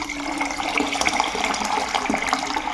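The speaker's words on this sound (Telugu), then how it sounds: "పొద్దున్నే గిన్నెకైతే వాటర్ అయితే వేస్తున్నాను" Water poured into a cooking pot in a home kitchen in the morning, a continuous splashing, gurgling stream at close range with no talking.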